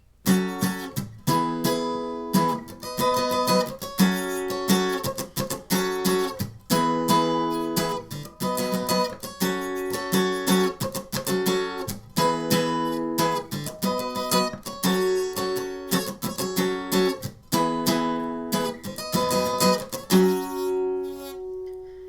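An acoustic guitar strums the chorus chord progression of a song in a steady rhythm, loud and close, with no voice, ending on a ringing chord.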